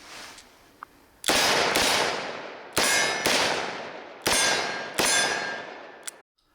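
A Smith & Wesson Performance Center Model 19 Carry Comp double-action revolver fires about six loud, close shots in quick pairs outdoors, each a sharp crack with a long ringing decay, the last one fainter.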